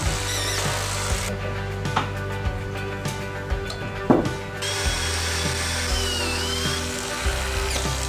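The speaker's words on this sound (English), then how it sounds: "run 2 lag screws in each stud" A power drill drives lag screws into wooden studs during a kitchen ceiling build in an old farmhouse, a steady motor whine broken by a few knocks and brief pauses, with other workshop noise around it.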